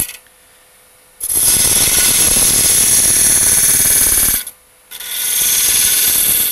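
A wood lathe turns a snowman's hat brim flat, giving a loud, steady, close scraping whir as the tool cuts. It runs for about three seconds, pauses briefly, then starts again.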